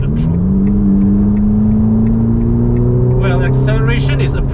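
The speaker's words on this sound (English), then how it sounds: "So the roads are clearing up a bit, and let's grip the throttle" A Ferrari Roma, heard from inside while driving in comfort mode, accelerates under throttle, its engine note rising steadily and loudly in pitch over several seconds before a gear change near the end.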